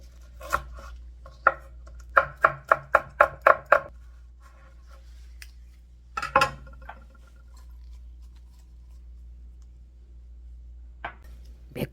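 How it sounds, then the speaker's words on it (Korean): A knife finely chops a deseeded red chili on a cutting board, a quick burst of about eight crisp close taps, then scattered single chops and pauses. Nobody speaks. "홍고추도 하나만 씨를 빼가지고 쫑쫑 썰을 거예요."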